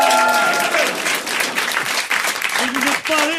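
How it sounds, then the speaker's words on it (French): Frenzied audience applause from a studio crowd including a whole high school class, loud and dense, with a voice talking over it and some whistles or cheers rising near the end. "Voilà pourquoi vous entendez ces applaudissements frénétiques."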